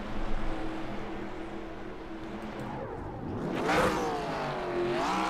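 Race cars howl around the track at Legacy Michigan, a steady engine drone swelling into a rising, revving whine as a car passes nearby, with no talking.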